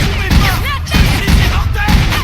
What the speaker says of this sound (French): la fuite se retrouve face à face avec Jack, qui lui tire dessus